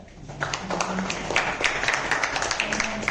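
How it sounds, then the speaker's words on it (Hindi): Applause at a school assembly for International Mother Language Day, scattered sharp claps from a moderate crowd, rising after a brief quiet start and continuing unevenly, with faint voices underneath. "हम अपने मुकर्रिर को समाप्त करते हुए इनकी हौसला अफजाई के लिए जोरदार ताली बजाएं।"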